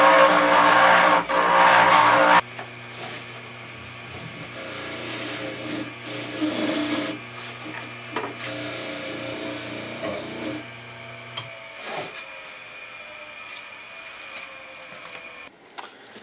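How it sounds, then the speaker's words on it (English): A dental lab lathe runs a rag wheel against a clear orthodontic resin denture duplicate, starting with a loud, bright whirring burst that drops to a steadier motor hum with intermittent rubbing and scuffing contact noises, ending in scattered clicks. "finish up some of our polishing using my lathe burr and my rag wheel"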